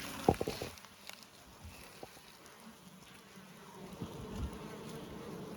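Honeybees fly around hives at an apiary in Sweden, making a faint, steady outdoor buzz with a few soft knocks and clicks mixed in.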